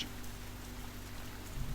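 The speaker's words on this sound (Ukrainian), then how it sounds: "Дощ стукає по дахах і вікнах." Steady rain falling and pattering on roofs and windows, a soft continuous hiss of drops with a few heavier low thuds near the end.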